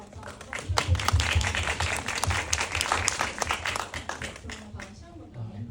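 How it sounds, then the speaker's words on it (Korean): Audience applause at a film festival screening talk in Bucheon, a steady patter of many hands clapping, moderately close, swelling and tapering with speech present. "박수 감사합니다"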